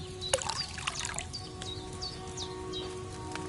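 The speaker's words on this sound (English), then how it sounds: "First, you have to pour the right base into the cauldron" Wine poured from a pitcher into a cauldron in Kingdom Come Deliverance 2, a soft steady trickle beneath faint chirping birds in the background.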